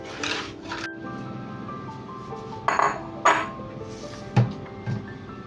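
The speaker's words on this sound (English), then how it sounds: "mix everything together to evenly combine the ingredients" Cake ingredients being stirred together in a mixing bowl for a homemade chocolate cake, with a few close, bright clinks and taps of a utensil against the bowl over a faint background hum.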